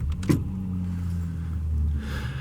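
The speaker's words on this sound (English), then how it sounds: "wait for this friggin' old starter" An old starter cranking the flooded engine of a 1981 Marquis: a steady, low mechanical whirring that goes on without a break and without firing, close and fairly loud, with no talking.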